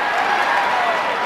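A packed crowd in a wrestling video game, WWF Attitude on Dreamcast, roars and applauds in a steady, dense wash of cheering that holds at the same loud level throughout.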